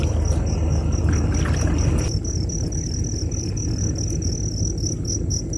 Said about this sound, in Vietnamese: Thì nghe em thấy nghe tiếng dế đó mà em muốn nói sao ở ngoài này lại có dế trời.